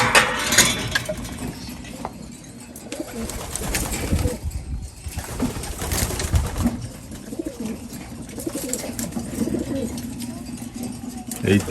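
Racing pigeons coo repeatedly at close range, low throaty calls rising and falling under steady background noise and a faint engine hum.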